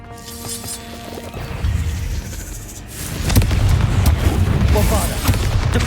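The Confringo explosive spell in Hogwarts Legacy lands with heavy booming impacts and crashes that swell partway through, layered over sustained low combat rumble and occasional voices.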